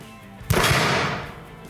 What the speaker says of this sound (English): We're gonna shoot it just double action like you did before when you dry fired it, all right? Extend onto the target and fire when ready.